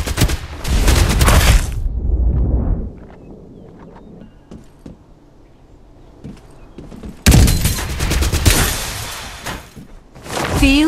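Bursts of rapid automatic gunfire in the video game Farlight 84, loud and dense at the start and again near the end, with quieter scattered in-game effects between.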